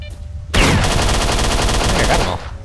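Gunfire in the video game STALKER: a loud, sustained burst of rapid automatic shots lasting about two seconds, with no talking.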